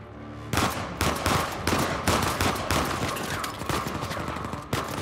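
Gunshots in Uncharted 4, a loud close barrage of repeated sharp shots in quick irregular succession, sustained for several seconds with brief gaps and no voices.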